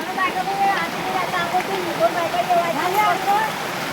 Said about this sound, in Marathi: हे बघा आमचा झरा इकडे.